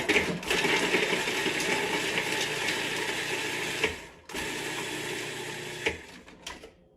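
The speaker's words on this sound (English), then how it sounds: "I'm going to put it in my food processor just for a little bit." Food processor chops sliced Vidalia onion in a home kitchen, a loud continuous whirring buzz that cuts out briefly near the middle, then restarts with small pulses before stopping at the end.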